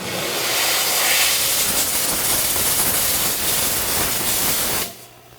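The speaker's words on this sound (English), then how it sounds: "Let's steam it off and we're done." Jewelry steam cleaner blasting a freshly sized 14 karat gold ring with platinum-group plating, a loud, close, steady hiss of steam that cuts off abruptly near the end.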